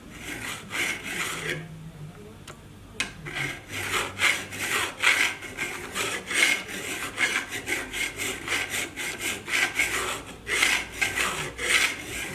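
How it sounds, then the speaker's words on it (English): A hand file rasps across the edge of a steel cabinet scraper in steady back-and-forth strokes, close and rhythmic after a brief pause near the start, with no talking. "You've got to feel the file brightening."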